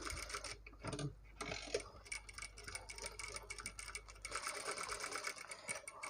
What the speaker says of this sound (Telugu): ఇలా ఒక్కొక్క బాల్ అయితే స్టిచ్ చేస్తున్నాను